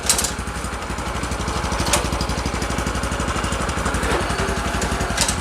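An Oleo-Mac 197 RKS cultivator's small engine runs in first gear, a close, steady rapid chugging with regular pulses and no talk.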